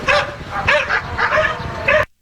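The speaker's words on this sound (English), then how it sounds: "That's just a regular dog." A regular dog barks and yips in several quick bursts, close and fairly loud, with a whimpering edge to some calls.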